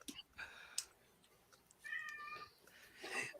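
A cat meows about three times in short, faint calls spread across a quiet indoor space, with no other sound between them.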